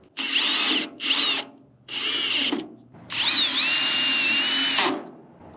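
A cordless power drill drives real screws into a car trailer during a refresh, four loud close whirring bursts with short pauses between them, the last run longest, rising in pitch as each screw seats, with no talking.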